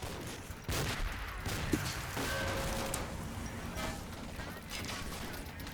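Rocketeers fire at mortar positions in a war video game, with a rapid fusillade of muffled gunfire and bursts against a steady battle rumble, mid-level in loudness.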